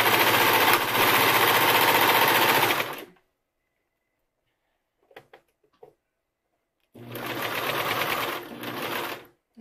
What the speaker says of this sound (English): I prefer a wider set cover stitch or double needle